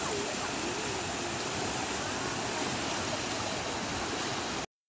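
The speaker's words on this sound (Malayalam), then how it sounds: "ഇവിടെ നല്ല അടിപൊളി വെള്ളച്ചാട്ടം ഉണ്ട് കേട്ടോ" Steady rushing water from a village waterfall and stream, a continuous broadband roar that stays loud and even throughout, with no voices over it.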